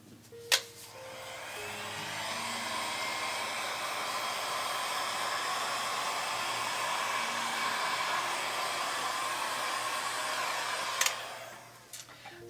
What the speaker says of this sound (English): I don't know if using a heat gun will help or not, but I am going to try it